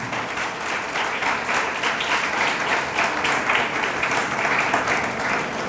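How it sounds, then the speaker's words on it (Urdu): A church congregation applauds loudly after a healing testimony, a dense sustained roar of many hands clapping that fills the hall for several seconds without letting up. "آئیں خداوند کے جلال کے لیے ہم زوردار تالیاں بجائیں۔"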